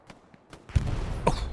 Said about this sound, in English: Artillery shell clears the circle trench.